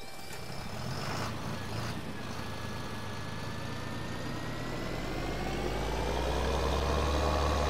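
Tractor engine in the Farming Simulator 2013 video game, a steady droning hum running throughout and slowly rising in pitch and loudness toward the end, with no talking.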